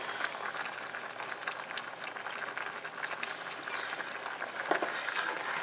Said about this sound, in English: Okay, and that's going to boil.